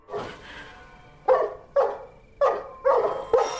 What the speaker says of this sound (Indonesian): tiba-tiba saja guguk Alex menggonggong